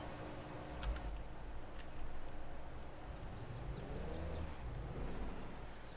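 Farming Simulator 22 truck pulls away at a wood lot with a low diesel rumble and a sharp air-brake hiss release, followed by a faint rising whine as it drives off, fairly quiet and steady.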